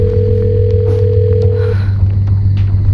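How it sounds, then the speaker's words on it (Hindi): A phone call rings unanswered: a steady electronic tone holds for under two seconds and then cuts off, over a constant low hum; no one speaks. "कब से फोन लगा रही हूँ लेकिन वो फोन ही नहीं उठा रहे।"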